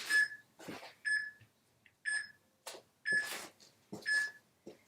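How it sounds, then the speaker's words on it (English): Workout interval timer beeping during a lower-body superset workout: five clear, identical electronic beeps, about one second apart, with short bursts of other noise between them. "So let me get my timer here."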